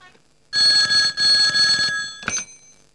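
A telephone rings loudly and close in two long electronic bursts, followed by a shorter chirp, with no talk over it.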